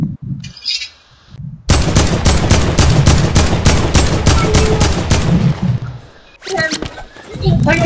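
Rapid automatic gunfire in a battle royale shooter game, a loud sustained burst of evenly spaced shots lasting several seconds, with brief talk before and after it.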